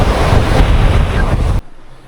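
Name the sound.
waves and strong wind on rough sea while sailing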